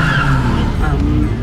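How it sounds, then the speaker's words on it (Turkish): Tires screech loudly as a car swerves and cuts in on the road, a tense, sliding skid with voices mixed in. "arabanın teki bunlara böyle fıt fıt fıt makas atıyor"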